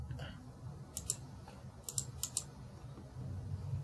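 A computer mouse clicking a few times on a desk while working in Microsoft Access, faint and close, over a low background hum.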